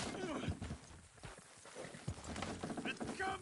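A horse's hooves clop along in Red Dead Redemption 2, a moderate rhythmic gait partly buried under character voices talking over it.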